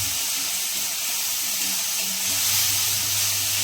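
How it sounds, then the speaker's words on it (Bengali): Meat frying with spices in a pan, a steady loud sizzle and hiss with stirring scrapes running throughout, no voices. "এই মশলাটা দিয়ে এখন আগে একটু মশলাটা কষি।"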